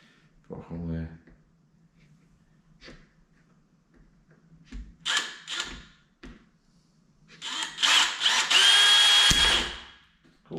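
A power drill bores a hole in a carp fishing baiting pole, running in two short bursts and then one louder, longer run, with quiet talk between the bursts.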